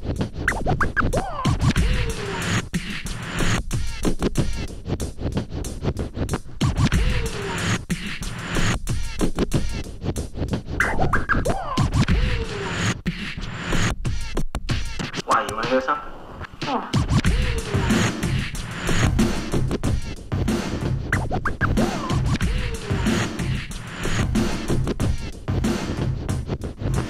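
Record scratching by a DJ mixing on turntables, dense rhythmic scratches layered over a continuous loud beat with little pause, nearly half a minute long, no talking.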